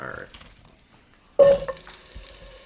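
Vegetables hit a pan over medium-low heat to sweat, a sudden loud sizzle that settles into a softer, crackling fry with light stirring.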